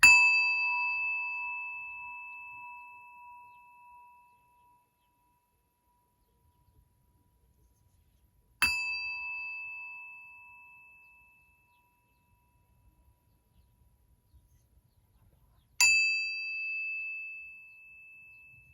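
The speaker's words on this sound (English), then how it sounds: "You have to ring the bell." A small bell rings three times, each strike a clear, bright ding that rings on and slowly fades in an otherwise quiet room.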